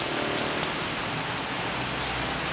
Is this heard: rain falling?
yes